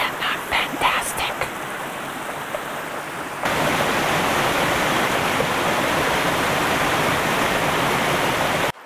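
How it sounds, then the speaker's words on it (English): Water rushes steadily in a stream near an autumn aspen campground, a loud, continuous broadband wash that swells and fills the scene after a few softer seconds. "And the sound of water."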